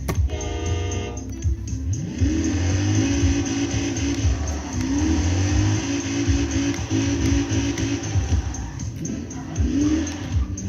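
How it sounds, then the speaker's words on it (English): A car doing a big burnout in front of a house, loud, continuous engine roar with wavering, rising and falling revs and harsh broadband noise through most of the stretch, with no talking. "that was a big burnout"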